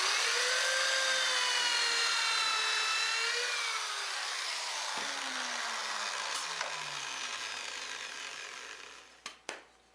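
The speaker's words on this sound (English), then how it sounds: "I can go ahead and drill the first pocket hole." A pocket hole drilled into a board held in a jig with a small air clamp, for a TV stand build: a loud, steady high whine of the bit that slowly falls as it winds down, ending with a couple of sharp clicks.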